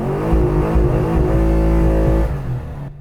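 A Pontiac G8's engine revs hard and holds a steady high drone as it bounces off the rev limiter, loud and close for a couple of seconds before dropping away.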